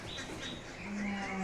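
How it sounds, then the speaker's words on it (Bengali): A gugu bird calls in the morning in a village, a few clear tonal notes sounding at moderate distance over a soft rural background, with no speech. "গুগু পাখির ডাক"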